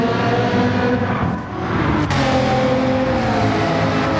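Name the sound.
race cars passing in the video game Gran Turismo 7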